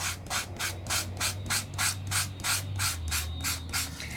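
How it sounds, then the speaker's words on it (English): Paper is sanded off the top layer of an embossed surface by hand, with about a dozen quick, even back-and-forth rasping strokes close up over a low steady hum. "I'm just sanding off that top layer of paper"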